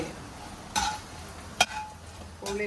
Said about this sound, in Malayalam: നല്ലോണം കൂടുതൽ എണ്ണയിൽ ഇതിനെ പൊരിച്ച് മാറ്റിയെടുക്കുകയാണ്